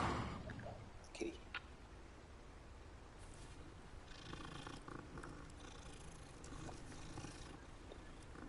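A cat purrs in a video game, a steady low rumble running through the whole stretch under busy game ambience, with a few brief higher clicks and effects near the start.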